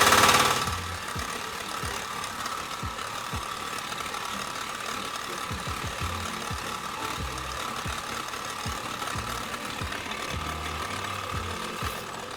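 Walk-behind tractor engine running steadily up close during a reverse-gear test, a continuous mechanical drone with rapid knocking pulses and a louder start that settles into an even rumble.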